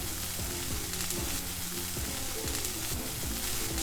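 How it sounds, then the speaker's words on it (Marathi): Chopped tomatoes sizzling as they go into finely chopped onions frying in oil, a loud continuous crackle with stirring clatter throughout, no voices. "आता त्यामध्ये मी टोमॅटो घालणार आहे"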